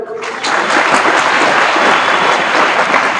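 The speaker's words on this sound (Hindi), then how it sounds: "तालियां बजा लीजिए" Schoolchildren at Ram Awadh Bal Vidya Mandir break into applause after a storytelling session, the clapping rising sharply after a brief quiet start and then holding as a loud, dense, even wash of many small hands.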